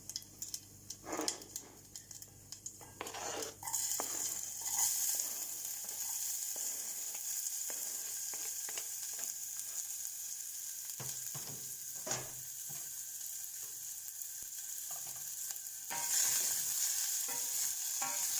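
Freshly chopped onion hits hot oil with popping spices and sizzles in a pan, with clattering stirring strokes early on and a steady hiss that swells again near the end, nobody talking.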